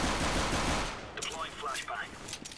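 Five-SeveN pistol fire in CS:GO, a loud rapid string of close shots at the start that gives way to scattered distant gunfire and game noise.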